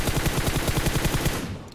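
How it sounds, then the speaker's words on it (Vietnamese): Rapid automatic gunfire in the PUBG Mobile battle-royale game crackles in steady, repeated bursts for nearly two seconds, then tails off slightly at the end, with no voices over it. "Ồ vẫn đang còn tiếng súng phía xa nữa kìa"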